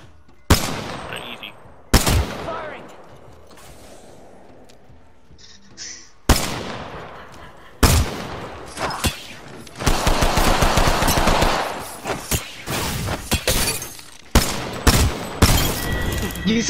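Enemy machine-gun fire in a video game, loud sharp bursts that come in separate volleys and then a sustained barrage, with a player's voice in between.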